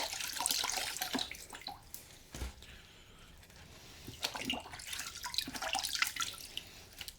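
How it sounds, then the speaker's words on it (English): Homegrown cabbage is rinsed in a basin of water for kimchi, with close, irregular splashing, sloshing and dripping as leaves are moved about, pausing briefly midway. "Okay, one more rinse."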